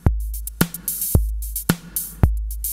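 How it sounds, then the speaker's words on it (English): Modular synth drum beat of kick and snare, heavily compressed with a little drive and reverb, pumping in a steady pattern of punchy thumps and bright hits, loud with no voices. "Kick, snare, lots of compression, little bit of drive, reverb, all being heavily compressed together."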